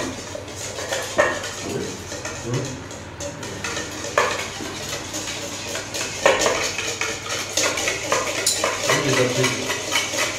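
Spoon stirring homemade mayonnaise in a bowl for a crab recipe, steady scraping and clinking strokes at close range, with light kitchen clatter around.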